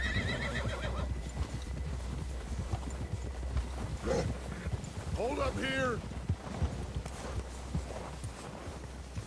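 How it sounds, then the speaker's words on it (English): A horse whinnies loudly midway while hooves clop steadily underneath in Red Dead Redemption 2, with someone speaking briefly and a low ambient rumble throughout. "Get a hold of that horse"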